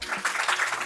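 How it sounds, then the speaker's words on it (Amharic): Brief burst of dense, steady audience clapping filling the whole moment, close and loud, with no voices over it. "እስቲ አጨብጭቡ።"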